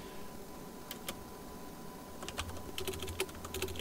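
Fingers tap on a computer keyboard while notes are typed in as labels for an automotive scope channel. A few isolated keystrokes come first, then a quicker run of light clicks, all faint and close with no talking.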